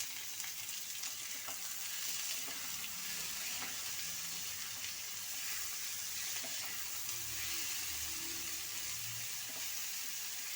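Tomatoes, salt and masala frying in hot oil in a pan, a steady dense sizzle that holds evenly throughout, close and fairly quiet, with faint occasional stirring scrapes underneath.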